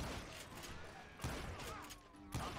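Shotgun blasts in the Gunslinger video game, two heavy booming shots about a second apart over a noisy game background, with talk.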